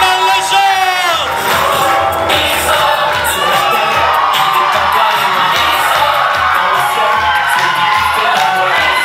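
A loud crowd at a live show cheers, whoops and shouts for a performer, with whistles and clapping forming a dense, sustained roar throughout.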